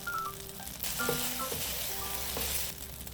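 King oyster mushrooms and sausage stir-fry with oyster sauce, corn syrup and garlic in a pan, giving a steady close sizzle and crackle with faint scraping of stirring throughout.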